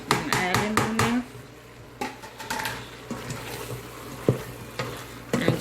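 Browned meat with fresh tomatoes is stirred in a frying pan, giving a run of quick scraping and clattering strokes over a soft, steady sizzle, with scattered utensil knocks and a voice speaking now and then.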